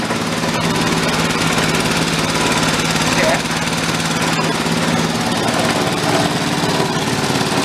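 A small engine on a battered motorized wagon idles with a clutch that keeps trying to engage, making a loud, continuous chugging rattle with a steady pulsing throb and no pauses.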